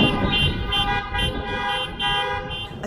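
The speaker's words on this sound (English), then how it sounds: "honking endlessly to get the attention of the prisoners inside." Car horns blare continuously in overlapping steady tones from a caravan of cars outside a state correctional facility, loud and close with traffic rumbling underneath.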